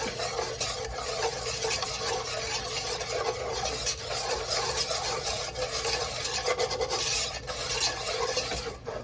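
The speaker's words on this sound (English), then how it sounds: "now all you do is just stir it in, stir it up" Flour stirred into melted butter in a pot for homemade mac and cheese, making a continuous, close scraping and rasping with a faint sizzle that runs steadily throughout, with no talk.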